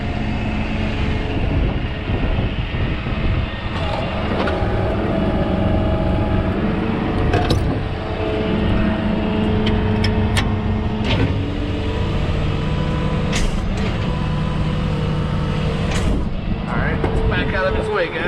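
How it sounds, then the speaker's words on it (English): A pickup truck engine idles and rumbles steadily as it backs up to make room for pulling out a stuck Kubota lawn tractor, with people talking over it and a few brief clanks. "I'll back my truck up, and then we'll make sure you get out."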